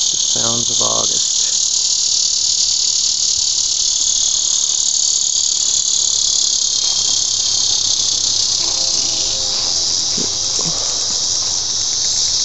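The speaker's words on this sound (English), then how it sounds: "There's some sort of cicada" An outdoor cicada drones in August with a loud, continuous high-pitched buzz that never lets up. A few brief, faint low sounds occur near the start and middle.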